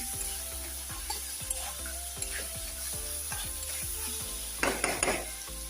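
Boiled eggs frying in a pan with fish, coriander leaves and green chilli, a close sizzle under repeated rhythmic scraping of a spatula and clinks of utensils near the end.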